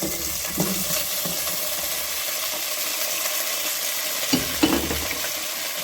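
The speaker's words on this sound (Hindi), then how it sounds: "1 टेबल स्पून इसके अंदर गार्लिक का जा रहा है। इसको हम फ्राई करेंगे" Garlic fries in a pan for chicken shashlik, giving a continuous hiss and sizzle up close, with a couple of brief stirring scrapes and knocks, no voices.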